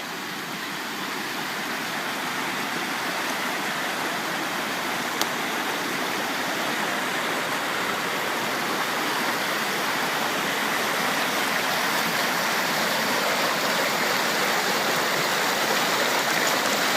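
A woodland stream at a bushcraft bivouac rushes steadily and close by, a dense, even wash of flowing water that holds for the whole stretch with no voices.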